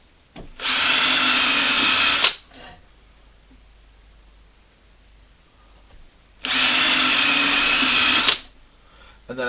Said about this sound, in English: I'm just going to drill about a pencil lead width